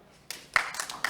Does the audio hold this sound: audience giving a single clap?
yes